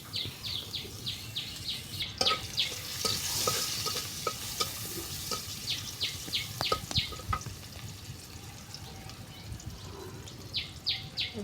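Onion frying in oil for a bottle-gourd leaf mash, a steady close sizzle with stirring scrapes and knocks, birds chirping faintly in the background, no speech.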